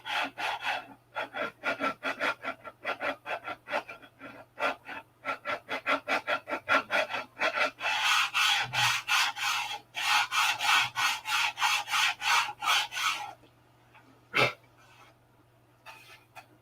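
Hand sanding of a wooden P-47 model produces steady rhythmic rasping strokes, close and fairly loud, in quick repeated bursts for about thirteen seconds before a single sharp knock and quiet.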